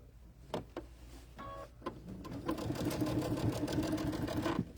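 Sewing machine stitching a straight stitch for a quilt binding, starting with a few separate needle thumps, then running steadily and close for several seconds.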